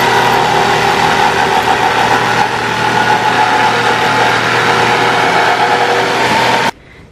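A power tool cuts through zinc sheet for a rustic laundry room makeover, a loud, continuous grinding drone close by that holds steady for several seconds and then stops abruptly.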